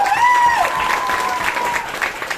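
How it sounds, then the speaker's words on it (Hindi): Loud, sustained clapping from an audience at a business talk, continuous and dense, with a brief high whistle or shout over it at the start. "इनके लिए एक बार जोरदार ताली होनी चाहिए।"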